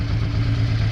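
A Honda Bros motorcycle engine idles steadily close by, a low even thrum with a slight clatter running through the whole brief moment.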